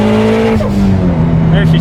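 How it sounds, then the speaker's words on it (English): A 700whp 2019 Subaru STI pulls hard through the gears from first toward third on a dyno, a loud continuous engine roar with pitch sweeping up and dropping at quick shifts, with people talking over it. "I'm trying to shift like Bader and get that fast shift"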